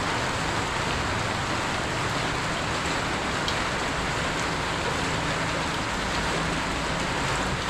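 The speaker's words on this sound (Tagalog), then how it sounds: "Magdamag yung ganitong ulan, no?" Heavy rain pours steadily outside a workshop, a dense, unbroken roar of drops drumming on surfaces throughout, close and loud with no pauses.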